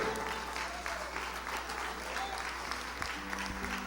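A church congregation claps for the Lord during a Sunday service, making a steady, full round of applause throughout, with a low hum underneath.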